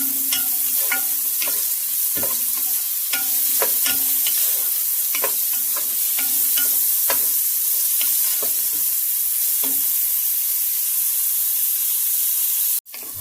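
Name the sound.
onions frying and browning in a pan for harira soup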